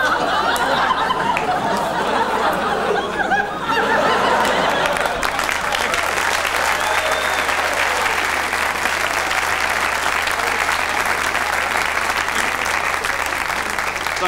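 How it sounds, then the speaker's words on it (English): Loud, dense audience applause mixed with scattered chuckles and laughter at a live comedy performance, sustained and steady without a break for the whole stretch. "Don't clap too long, I'm not breathing."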